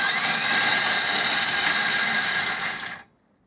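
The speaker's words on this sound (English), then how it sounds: "So I've got the starter, we'll just engage it" A starter motor whirs hard and continuously against an AAC 250 drag bike engine, a loud close grinding drone that holds for about three seconds and then cuts off abruptly.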